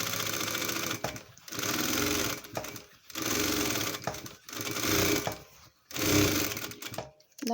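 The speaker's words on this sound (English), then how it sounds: "what I prefer to do to make it even perfect even and perfect, is to do another stitch completely parallel to that one" A sewing machine stitches a parallel seam on a blouse in several loud, close bursts of rapid whirring, each separated by short pauses.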